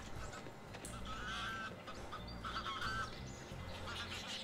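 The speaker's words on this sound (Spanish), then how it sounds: "Yo oigo los patos desde aquí." Ducks quacking near water at nightfall in the game Forest Ranger Simulator, a few scattered honking calls at a moderate distance over a steady ambient background.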